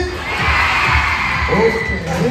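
A crowd of middle school students shouts together during a school recreation event, a loud steady roar of young voices filling the room throughout.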